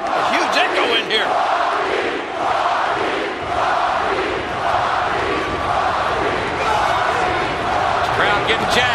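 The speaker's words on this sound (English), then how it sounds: "Crowd getting jacked." A wrestling arena crowd roars and chants loudly and continuously at a WWF event, packed and echoing, with rhythmic bursts of cheering. A voice talks over the din.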